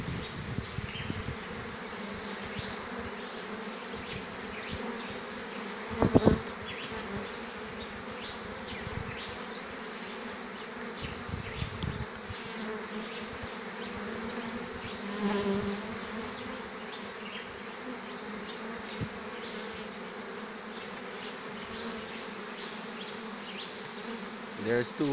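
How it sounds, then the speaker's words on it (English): A honey bee swarm buzzes in a dense, continuous drone around a bucket swarm trap outdoors, with individual bees whizzing close past at intervals over about 25 seconds. "There's still a lot of bees flying around, so it's a good swarm."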